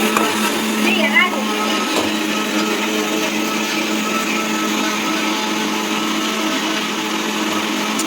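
An electric mixer grinder whirs loudly and steadily, grinding small shallots, garlic and masala in a village kitchen, its motor drone continuous and close throughout.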